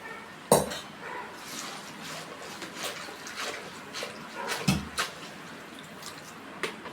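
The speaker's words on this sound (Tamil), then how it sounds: "2 வாட்டி 3 வாட்டி தண்ணியில் போட்டு நல்லா அலசிட்டு இப்போ 4வது வாட்டி மறுபடியும் நாங்கள் அலசிக்கிறோம்." Amaranth greens being rinsed by hand in a pot of water, with splashing, sloshing and dripping, plus two sharp knocks against the vessel, close and moderately loud with no talking.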